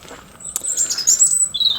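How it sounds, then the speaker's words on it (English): Birds sing on a cloudy spring morning, giving a brief burst of high, thin chirps and tweets that are fairly close and stand alone against a quiet background. "So the birds are singing and it's all just beautiful."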